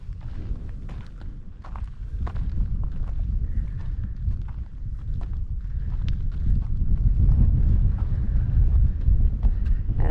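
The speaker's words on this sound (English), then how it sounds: "Still windy." Steady wind rushing and buffeting outdoors on an uphill goat track near Coober Pedy, Australia, broadband and fairly loud throughout, with faint scuffing steps underneath.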